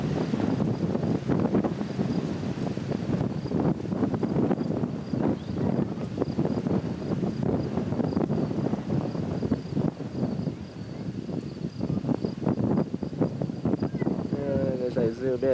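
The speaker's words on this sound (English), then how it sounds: "It's very windy out here" Strong wind buffets the microphone with a constant low rumble and roar, gusting throughout under a person talking.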